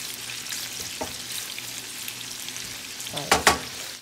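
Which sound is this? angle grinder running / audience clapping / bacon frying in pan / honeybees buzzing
bacon frying in pan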